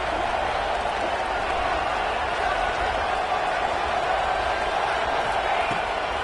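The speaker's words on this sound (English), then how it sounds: "Guns up, and so is the noise. The crowd electric, trying to help tack on this third down." A stadium crowd at a Texas Tech football scrimmage against Texas roars in a dense, continuous wash of cheering and noise, with a commentator talking over it.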